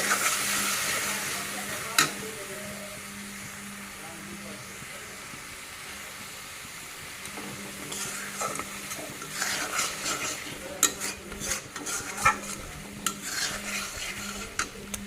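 Ground turmeric frying in a pan while being stirred, a steady sizzle and hiss with repeated scraping strokes that grow busier in the second half, a faint voice in the background.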